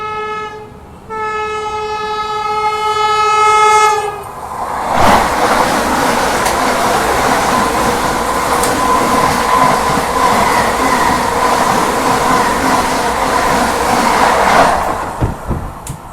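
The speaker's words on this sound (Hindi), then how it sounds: "तो यहाँ पे भाई तीसरी वंदे भारत क्रॉस हो रही है, जो कि है बनारस से चलकर आगरा कैंट के बीच में चलने वाली वंदे भारत एक्सप्रेस।" A Vande Bharat Express, running between Banaras and Agra Cant, sounds a loud, sustained two-tone horn, then thunders past with a dense, steady roar and rattle that stays close and loud before easing off at the end.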